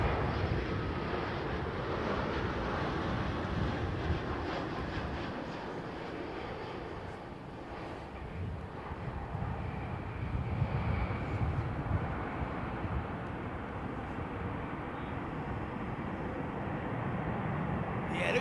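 An Aeromexico jet arrives at Heathrow, its broad engine roar holding steady and fairly distant for the whole stretch, with wind noise over the microphone and no talk.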